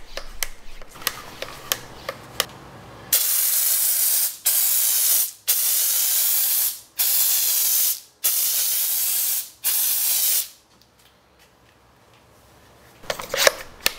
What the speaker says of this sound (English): But I love the thick foam, so I went ahead and sprayed about 3 to 4 times.